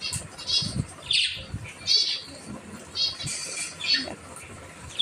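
Pet cockatiels eating corn give repeated short, high chirps at close range in irregular bursts over a low background.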